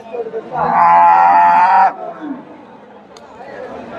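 A Friesian dairy cow at a busy cattle market in Bogura gives one loud, drawn-out moo lasting over a second, close by, followed by quieter crowd murmur and market chatter.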